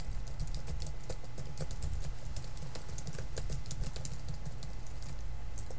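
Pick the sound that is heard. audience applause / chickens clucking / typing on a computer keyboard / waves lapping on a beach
typing on a computer keyboard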